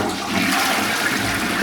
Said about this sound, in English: we always like to do a bit of a flush test